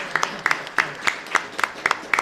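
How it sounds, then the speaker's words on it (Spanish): Applause for Rubén Mendieta, publications director of Ediciones del Lirio, at a book presentation, a small, sparse group clapping at a moderate level with a few distinct slaps standing out. "Quiero, antes de terminar, que le demos un aplauso a Rubén Mendieta"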